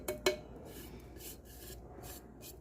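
Foil being firmly rubbed down onto a brushstroke-painted epoxy tumbler makes soft, brisk rubbing strokes, close and quiet, in several short bursts after a couple of small taps at the start.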